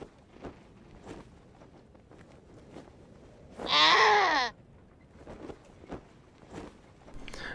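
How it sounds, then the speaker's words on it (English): A goat in the game Wasteland 2 gives one loud, close, quavering bleat lasting under a second, set among soft, evenly spaced footsteps. "Yes, Mr. Goat, I still hear you."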